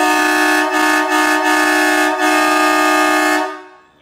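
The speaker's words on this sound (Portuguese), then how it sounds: "Com as buzinas dupla, meu irmão." A truck's double marine air horns blare in one loud, sustained chord, dipping briefly a few times before the blast fades out at the end.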